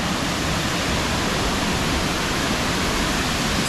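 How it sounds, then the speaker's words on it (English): A crashing waterfall at a riverside campground, swollen by flood waters, roars as a dense, steady broadband rush that fills the whole clip without a break. "hear the crashing of the waterfall"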